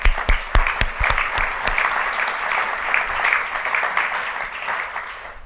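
Audience applause welcoming a panel at a talk on integral ecology and climate change: a few sharp early claps grow into sustained, even clapping from a seated crowd that carries on throughout.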